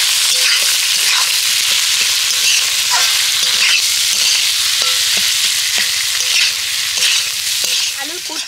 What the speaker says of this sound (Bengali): এবার সব কিছু একসাথে ভালো করে নেড়ে চেড়ে পুরটা তৈরি করে নেব।